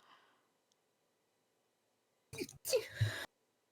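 A person sneezes twice in quick succession during a tabletop role-playing game session, loud and close after a quiet stretch.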